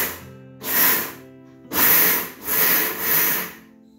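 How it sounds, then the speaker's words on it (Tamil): A kitchen mixer grinder pulses almonds, cashews and pistachios into a coarse powder for rose laddu, with a few loud whirring bursts separated by short pauses and no talking. "இதில் நம்ம வந்து பாதாம் பருப்பு, முந்திரி பருப்பு, பிஸ்தா பருப்பு இது மூணுத்தையும் சேர்த்து நம்ம முன்னாடி மிக்சியில் ஒரு அடி அடிச்சுக்குவோம்"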